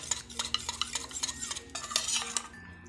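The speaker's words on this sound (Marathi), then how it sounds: "कस्टर्ड पावडर घेतली, त्यात थोडंसं गरम दूध टाकून घेऊया. आता हे छान मिक्स करून घ्यायचं." Custard powder being stirred into hot milk, with rapid, rhythmic clinks and scrapes of a spoon against the container, close and continuous without speech.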